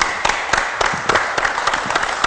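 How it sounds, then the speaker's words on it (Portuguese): Applause for a pastor at a Portuguese-language round-table event: a modest, uneven patter of hand claps over a steady room noise, lasting a couple of seconds. "Vamos aplaudir ela"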